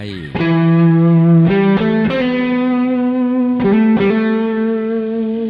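Distorted electric guitar plays sustained notes and a few chord changes, thick and saturated, ringing out with a slight chorus shimmer.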